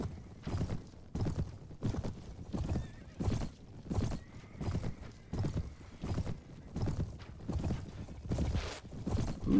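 Horse hooves clopping in a steady galloping rhythm with neighs and whinnies from an armored horse in the medieval video game Mount & Blade, loud and continuous throughout.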